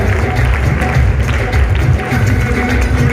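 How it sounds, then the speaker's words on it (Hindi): A crowd at a Safe Shop business-plan seminar claps loudly and continuously, a dense sustained roar of applause with a voice faintly mixed in underneath. "जोरदार जोरदार ताली होनी चाहिए"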